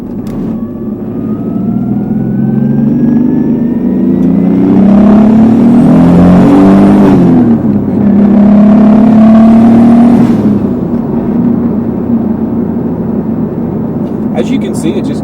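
A car with an R154 manual gearbox swapped in from an IS300 accelerates hard through the gears, the engine note rising and dropping with each shift, loud and close inside the cabin.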